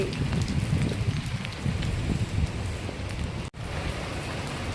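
Steady rain in Surat pattering down, a dense broadband hiss with soft drops throughout, close and fairly loud, with a brief dropout near the end.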